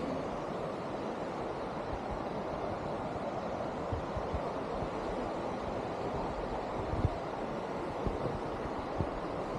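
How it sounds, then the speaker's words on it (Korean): A mountain stream in autumn Seoraksan, along the Biseondae trekking trail, flows in a constant close hiss and rush with occasional soft knocks underneath, steady and uninterrupted, with no voices. "물소리 좋다."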